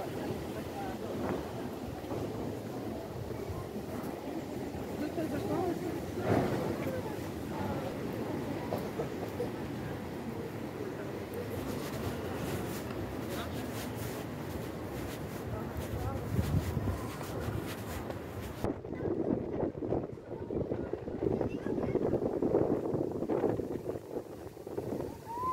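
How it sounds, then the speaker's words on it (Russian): Strong wind on the beach in Odesa roars and buffets the microphone in a loud, steady rush that gusts harder near the end, with a brief lull in the middle. "но очень ветрено."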